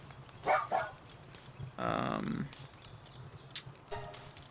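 Dire Howl wolf creature in the video game Palworld, giving short barking yelps near the start and a longer growling howl in the middle, with smaller calls after, over a low game background.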